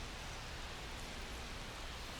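Steady rain falling over a baseball stadium at night in the video game MLB The Show, heard as a soft, even hiss that stays constant throughout with no voices.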